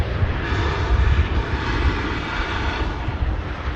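An Atlas Boeing 747 arrives at Manchester Airport in a strong crosswind, its engines producing a loud, broad, continuous roar that swells and stays heavy throughout, with no voices.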